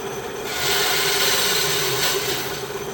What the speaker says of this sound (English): I'm just gonna use my bandsaw is all I have here to use.